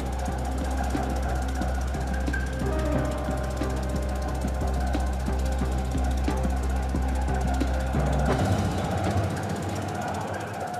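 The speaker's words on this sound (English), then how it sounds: "The noise you can hear is Elizabeth, our first TBM. She's currently boring her way through the concrete" A tunnel boring machine grinds through concrete underground, a loud continuous mechanical rumble with clanking, ratcheting gear noise and a deep steady drone that drops away near the end.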